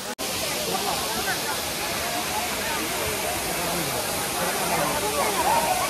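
A crowded waterfall roars in a dense, unbroken rush of falling water that fills the whole scene, with faint voices of bathers blended into the noise.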